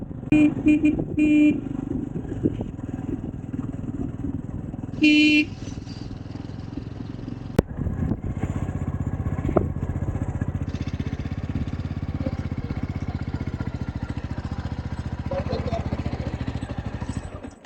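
Motorcycle ridden on the mountain road from Kalpa to Nako in Spiti Valley, its engine droning steadily close by with a few short horn toots near the start and people talking over the ride.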